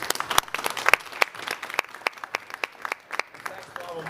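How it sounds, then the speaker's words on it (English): An audience at a conference pavilion claps in a scattered burst of applause, sharp hand claps overlapping, with a voice speaking near the end. "give another round of applause to our speakers"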